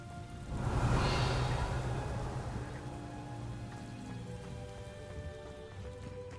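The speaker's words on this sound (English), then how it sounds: "Will it ever stop raining?" Steady rain falls in a video game, a continuous dense hiss that swells early and then settles into an even, close wash with no talking.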